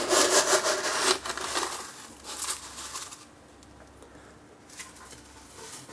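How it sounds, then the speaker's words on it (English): Sand poured in a thin layer into a reef aquarium, giving a soft rubbing, pattering hiss that is loudest in the first two seconds and then thins to a quiet trickle. "We are just gonna put a thin layer of sand."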